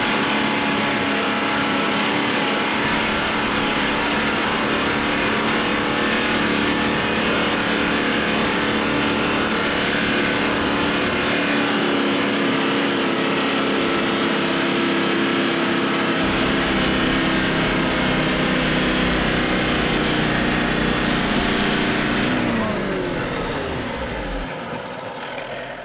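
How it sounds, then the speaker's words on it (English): Toyota Troopy 4x4 engaged in low ratio, second gear, with its engine held at maximum revs: a loud, sustained, droning roar that holds steady before the pitch shifts and the sound eases near the end, with no talk. "we're going to do low ratio, second gear, and maximum revs, and just see how we roll."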